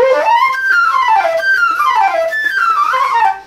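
A flute plays a fast flowing passage, with rapid notes sweeping down and back up in continuous waves, close and fairly loud, alone, ending abruptly after a few seconds.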